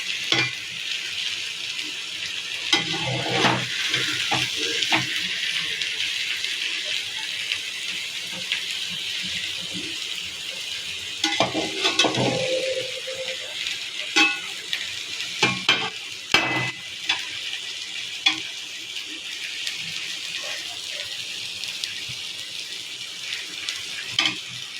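Beef brain fry sizzling in a pan as it is stirred, a long unbroken close sizzle with frequent scraping and clattering of the spatula, with more vigorous stirring at a few points.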